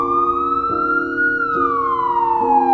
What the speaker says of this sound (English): Finally, I heard sirens.